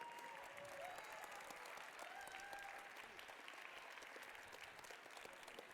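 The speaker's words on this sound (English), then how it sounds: "Everyone give them another round of applause" Steady applause from a crowd at a FIRST Tech Challenge robotics qualifier in Harrisonburg, continuous clapping throughout with some faint chatter mixed in.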